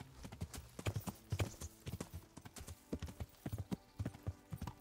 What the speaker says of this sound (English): Just go in circles like a good horse you are.